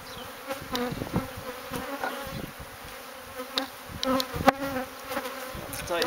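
Bees buzz around a hive being removed from a camper, faint drones rising and falling with scattered sharp knocks and bumps of handling close by.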